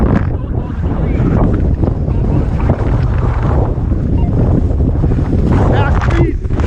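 Strong wind buffets the microphone in a constant loud roar while paragliding over the sea off Cape Lookout, with a voice briefly heard under the gusts.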